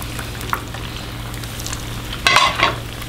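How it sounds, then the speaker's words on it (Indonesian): Food shaped into hearts sizzles steadily in hot oil while it is flipped and fried until crisp outside, with a continuous hiss and a louder burst of crackling and stirring near the end. "Tinggal kita goreng lagi ya sob."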